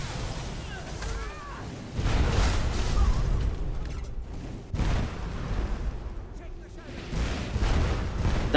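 Explosions strike the player character in Skyrim, a video game: several heavy, rumbling blasts land at intervals over a constant bed of game noise, with a voice faintly audible underneath.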